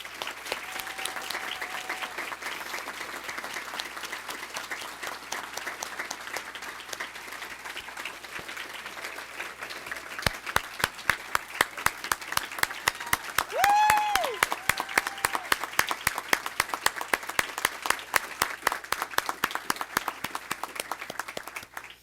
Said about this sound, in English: Let's congratulate Arlene and all of our 2023 Avid standouts with one more round of applause.